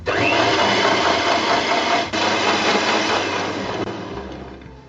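Whipping cream being mixed with about half a cup of powdered icing sugar, a steady loud motor whir of an electric mixer running continuously, with a brief dip partway through, no talking.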